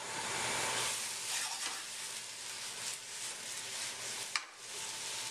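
Empanada filling cooking in a covered pan gives a steady, close sizzling hiss that runs unbroken throughout, with one brief sharp click near the end.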